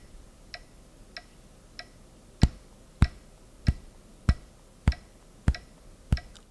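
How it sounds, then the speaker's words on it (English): A metronome ticks out a steady beat, eleven or so sharp, evenly spaced clicks; the first few are soft and the rest land clearly louder, alone with no other sound. "turn on the metronome and try to tap the beat with the metronome together"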